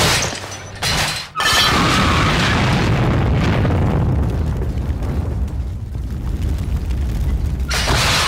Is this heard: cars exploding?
yes